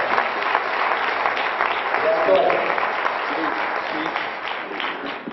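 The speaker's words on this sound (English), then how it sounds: "So let's give him a nice round of applause." An audience at a school event applauds Mr. Wallace, a steady wash of many hands clapping at even loudness throughout, moderately distant, with voices faintly mixed in.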